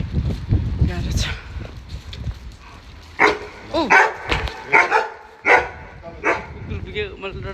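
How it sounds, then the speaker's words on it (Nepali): A dog barks in a series of sharp, fairly close barks with some yips, while people talk nearby. "कुकुर भुकेर त मेरो सातु लग्यो"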